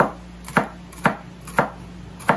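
A knife slices bitter melon (ampalaya) on a cutting board in five sharp, evenly spaced chops, close and clear with no talk.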